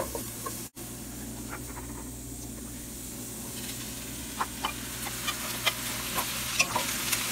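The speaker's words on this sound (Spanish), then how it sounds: "Ya que nuestra cebolla empieza a dorar, es momento de vaciarle el tomate picado" Chopped tomato tipped into browning onion in a pan, setting off a close steady sizzle, followed by repeated scraping stirs and small clacks of the spoon.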